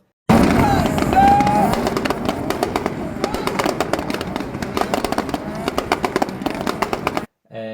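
A Nissan 300ZX with twin exhausts rapidly pops and bangs while shooting flames at a UK drag strip. Dense, irregular sharp cracks ring out loud and close over engine roar, then stop abruptly near the end.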